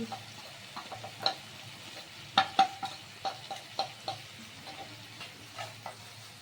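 A pan for potato dum sizzles quietly while turmeric goes in, with a run of soft spoon taps and scrapes against the pan at an irregular pace.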